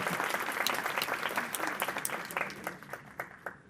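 Audience applause at the close of a panel session on gender and human trafficking, a steady wash of clapping from a moderate-sized crowd that gradually thins toward the end.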